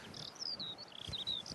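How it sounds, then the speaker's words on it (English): A skylark sings over a hay meadow, its thin, high, rapid warbling trills running on continuously, fairly faint and distant above a low background rumble. "the song of the skylark"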